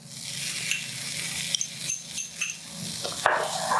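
Garlic sizzles in a pan with a steady crackling fry, broken by light clinks and scrapes of stirring and a sharper metallic clatter near the end.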